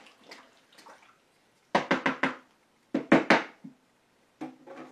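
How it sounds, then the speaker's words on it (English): A martial arts gi is pressed down into water inside a dye container, giving short clusters of close, wet sloshing and squelching pushes separated by quiet gaps. "there's air trapped under the gi, so I'm going to get that all smashed down into the water as best I can"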